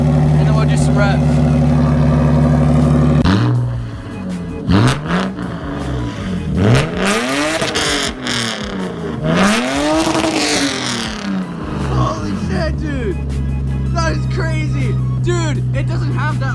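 Car fitted with a homemade fabricated exhaust idling loudly, then revving repeatedly in rising and falling sweeps before settling back to idle, with people talking over it nearby.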